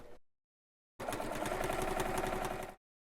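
A sewing machine stitches a quilt-as-you-go seam in one steady burst of rapid, even mechanical chatter, close and moderately loud, preceded by a brief snippet and silence.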